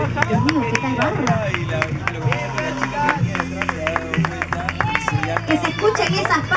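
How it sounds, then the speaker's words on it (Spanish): Crowd applause for the winners at the Vuelta a San Isidro 8K road race, with dense clapping under a loud announcer's voice and crowd babble over the whole stretch. "Fuerte las palmas para ellos, por favor"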